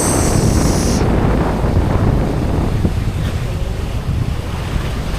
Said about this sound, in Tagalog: Pambihirang alon yan.